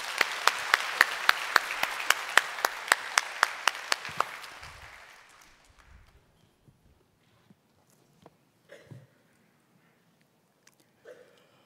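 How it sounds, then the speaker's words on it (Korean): A church congregation applauds to welcome a deacon coming forward to give a testimony at a Sunday worship service. Rhythmic, unified clapping with sharp regular beats fades out over about five seconds, leaving near silence with a few faint shuffles. "나오실 때 우리 박수로 환영해 주시기 바랍니다"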